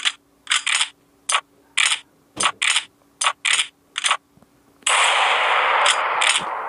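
Clicking and clacking of magazines being swapped on a sniper rifle in Gun Club 2, about a dozen crisp separate mechanical clicks in an irregular rhythm, then a steady hiss of static near the end.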